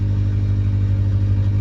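A Honda Civic engine with an OBD1 conversion and P28 ECU idling high, running without an intake air temperature sensor; a loud, steady, even drone runs unchanged throughout.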